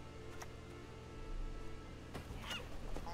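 Seagulls squawking in the card game Gwent, on a Skellige pirate-themed board: a few faint, honking bird calls over a steady low ambient bed.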